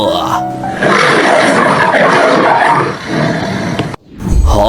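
A loud, sustained tiger roar fills nearly the whole stretch, rough and powerful, cutting off abruptly near the end before a low rumble returns, in a cartoon.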